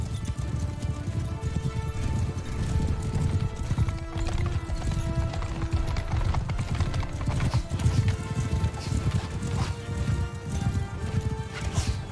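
Horse hooves clip-clop in a steady rapid rhythm with an occasional neigh in Mount & Blade II: Bannerlord, continuous and fairly close under faint game ambience.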